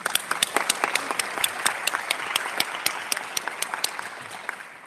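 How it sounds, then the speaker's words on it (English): A conference audience applauds a speaker at a women's sustainability forum, dense steady clapping with a few sharper close claps standing out over the crowd, gradually thinning toward the end. "Big applause to you again."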